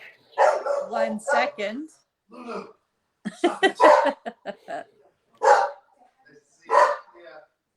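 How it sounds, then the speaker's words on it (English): Boxer dogs bark at someone arriving at the door, several short bursts in two clusters, fairly close and loud, with brief talk at the start. "They're supposed to bark when somebody comes to the door."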